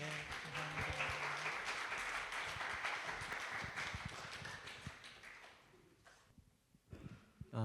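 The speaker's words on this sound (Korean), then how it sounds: "우리 한번 박수로 환영하겠습니다." A church congregation gives dense, warm applause to welcome a guest pastor. The clapping is steady for several seconds, then thins into scattered claps and fades out.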